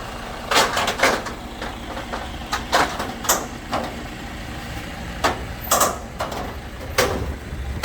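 A Citroen C4 being unloaded from a tow truck, with irregular metallic clanks, ratcheting clicks and thumps from the truck's mechanism, moderately loud and close over a rumbling background, no talking.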